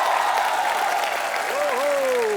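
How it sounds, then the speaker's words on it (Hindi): Dense, continuous studio audience applause on a comedy talk show fills the clip, with a voice rising over the clapping near the end. "जोरदार तालियां एक बार वैभवी मर्चेंट के लिए"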